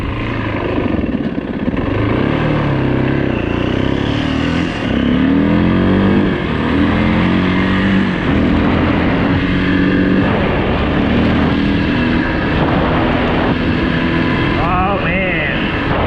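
A 2008 Yamaha WR450F dirt bike rides down a road, its engine a loud, continuous drone with shifting pitch and rough wind buffeting throughout, the throttle easing and rising in places.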